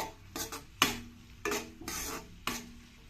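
Sliced onions for vegetable fried rice are tossed in hot oil, heard as a handful of short, separate bursts of sizzle and stirring with quiet pauses between them, fairly soft and close.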